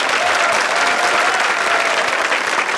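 A studio audience at a Turkish comedy talk show bursts into dense, loud applause, a continuous close roar of clapping with no voices over it.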